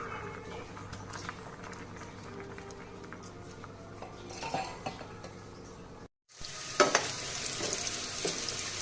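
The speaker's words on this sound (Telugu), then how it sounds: "ఉల్లిగడ్డలు, పచ్చిమిరపకాయలు 2 వేసినాము. వేయగాలి కొంచెం, ఇవి ఆయిల్లో డీప్ ఫ్రై కావాలి కొంచెం మంచిగా." Onions and green chillies fry in oil, a steady sizzle with occasional stirring scrapes that briefly cuts out and then returns louder and brighter.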